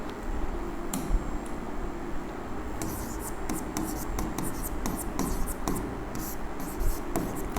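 Writing on a board during a maths lesson, with bursts of quick scratchy strokes that come thicker in the second half, heard close over steady room noise and without any talking.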